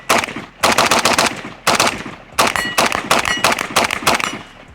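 A Pioneer Arms 556 Sporter AK rifle fires fast rapid-fire strings outdoors, several loud, close bursts of rattling shots separated by brief pauses, with no talking.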